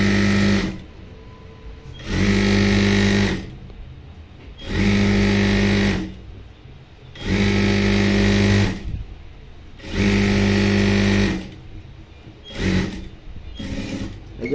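A sewing machine stitches thick elastic onto women's pajamas, running in loud, close bursts of about two seconds each, five times in a row, with brief pauses between runs and a shorter final spurt.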